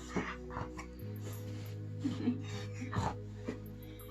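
A dog wiggles and fusses close by during a home yoga class, giving soft panting breaths and brief whimpers over a steady low hum, with a few sharper yips scattered through.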